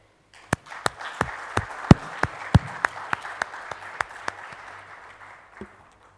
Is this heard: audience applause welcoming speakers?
yes